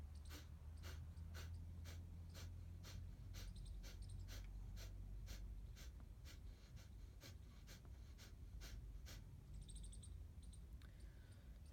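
Rapid, forceful kapalbhati breath-of-fire breathing: a steady train of sharp exhalation bursts, about two per second, close and alone with no talking.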